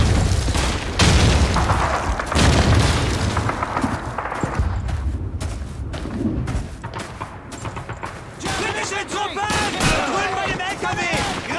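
Grenade blasts and gunfire in a Call of Duty 2 battle, loud booming explosions and crackling shots packed densely throughout, with voices and battlefield noise mixed in.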